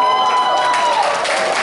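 At an Incheon police Christian mission praise contest, a crowd bursts into loud, continuous cheering and applause, a thick roar that fills the hall from start to finish.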